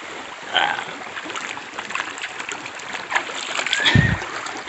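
A forest stream flows with a gentle, close trickle and light splashes, with a deeper splash near the end, while a voice speaks faintly in the background.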